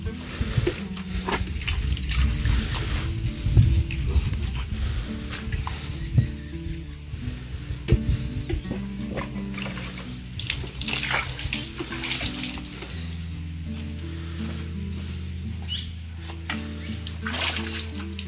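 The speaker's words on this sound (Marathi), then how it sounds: "चला आता पाणी घालूया." Water runs from a tap for watering backyard vegetable plants, a steady splashing flow with bursts of gushing and clatter over about eighteen seconds, fairly close.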